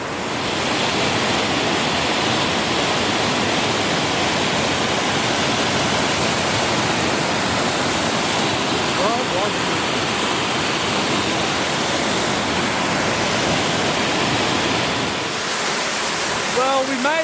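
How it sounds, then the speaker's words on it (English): Upper Moonlight Falls, a wide waterfall on a creek in full flow, roars as a dense, steady wash of rushing water that stays loud and unbroken throughout. "we made it to the base of the very, very impressive upper Moonlight Falls"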